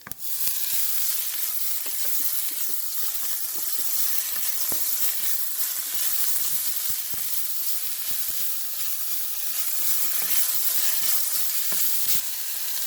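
Moringa leaves frying with tinfish in a pan give a steady, close sizzle and hiss, broken by frequent stirring scrapes and clicks throughout, with no talking.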